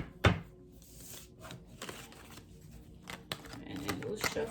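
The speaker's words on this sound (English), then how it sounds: "A little bit of shuffling." A tarot deck being shuffled by hand, with soft scattered riffles and card taps at close range, quiet throughout.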